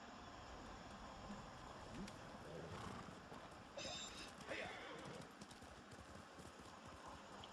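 Horse hooves clip-clop steadily at moderate distance in Ghost of Tsushima, with a brief whinny, over a continuous wind-like game ambience.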